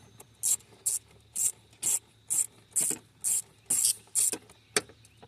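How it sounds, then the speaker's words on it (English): A ratchet wrench loosens a small ground nut on a Volkswagen Passat during an AC fan repair, clicking in about eleven short, evenly spaced bursts of ratcheting, close and fairly loud with no talk. "we're going to want to take the little nut all the way off"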